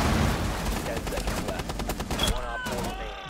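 Rapid automatic gunfire from Rainbow Six Siege crackles in dense, loud bursts for most of the clip, then thins to a few separate shots over a quieter background.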